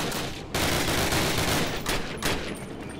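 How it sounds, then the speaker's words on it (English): Heavy enemy gunfire in the Call of Duty video game, with dense, continuous bursts of automatic fire that keep up steadily over three seconds and carry no talking. "Where the hell is this fire coming from?"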